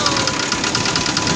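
A 1994 GMC Topkick truck's V8 gasoline engine runs at idle close by, with a steady rhythmic knocking pulse and mechanical clatter that repeats several times a second.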